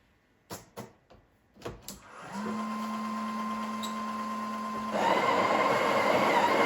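A Breville Oracle Touch espresso machine grinding coffee beans: a few clicks and taps, then a steady mechanical grinder whine that grows louder and fuller near the end, close up with no talking.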